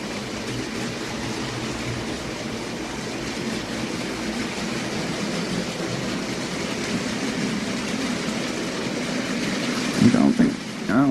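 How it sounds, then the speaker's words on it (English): A small OO gauge model steam locomotive, a Heljan Beyer Garratt, chugs steadily along the track pulling a train, with a continuous mechanical rumble and clatter, close by, ending in a few brief bumps. "it is basically running and pulling a train now"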